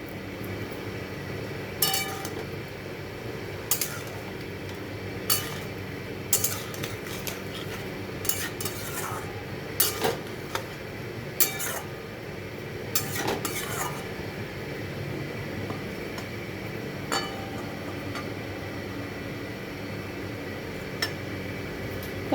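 Metal spoon clinks and scrapes against a pan while ground roasted garam masala is stirred into a simmering cauliflower curry, sharp irregular taps scattered over a low steady background hum.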